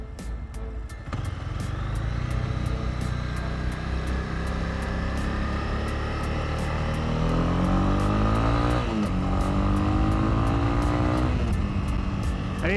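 A 2019 Honda CB300R motorcycle engine drones steadily while riding on a highway, loud and continuous, with rising revs through gear changes and wind rush over the top.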